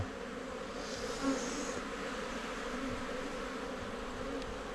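A steady, dense insect buzz of many bees hums continuously throughout, loud and close, with no voices.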